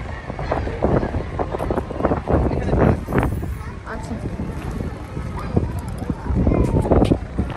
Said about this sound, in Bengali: আজকে অনেক বাতাস হচ্ছে।